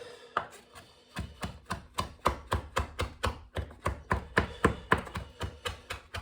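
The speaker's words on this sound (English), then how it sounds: "Now, I don't want to overdo it with the coriander because that can be overpowering. Right, so we'll get this chopped up." A knife chops through fresh coriander and parsley on a board with about twenty crisp, evenly spaced strokes. The chopping is close and rhythmic, and a short pause comes before the steady run begins.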